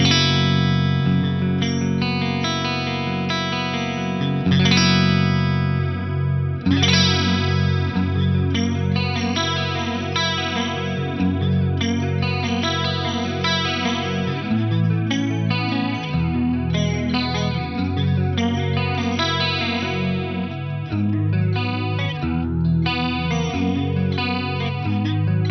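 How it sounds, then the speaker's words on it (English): Electric guitar through a BOSS CE-1 chorus pedal, played clean and then with the chorus engaged, giving a shimmering, wavering tone. Continuous chords and melodic lines ring out alone at steady volume for the whole stretch. "Let's hear the clean sound, and then with the chorus."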